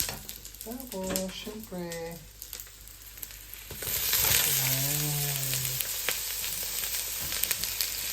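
Garlic sizzling in a hot pan for a quick chicken curry, a steady broadband frying hiss that swells louder midway and persists under intermittent talking.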